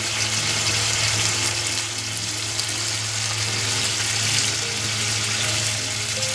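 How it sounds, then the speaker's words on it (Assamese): Masala paste with whole spices such as cardamom frying in hot oil in a home kitchen: a steady, dense sizzle and crackle continues evenly throughout, close and fairly loud, with no voices. "আৰু মই এতিয়া মছলা পেষ্টখিনি ঢালি এইখিনি পেষ্ট ঢালিলোঁ"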